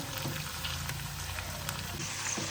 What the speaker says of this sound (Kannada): ಇದು ಸ್ವಲ್ಪ ಚೆನ್ನಾಗಿ ರೋಸ್ಟ್ ಆಗೋವರೆಗೂ ಫ್ರೈ ಮಾಡೋಣ